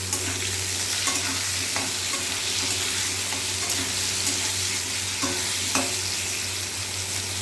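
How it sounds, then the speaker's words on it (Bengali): Potato pieces fry in hot oil in a pan with a pinch of salt, giving a steady close sizzle with occasional soft stirring scrapes throughout, no voices. "আলুটা ভাজা হতে থাকে।"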